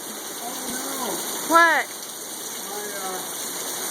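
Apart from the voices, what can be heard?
rain storm in the Arizona desert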